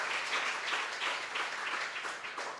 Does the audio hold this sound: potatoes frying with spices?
no